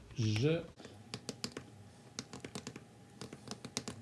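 Keys clack on a computer keyboard as an answer is typed, a rapid, uneven run of close, light clicks after a brief spoken sound at the start.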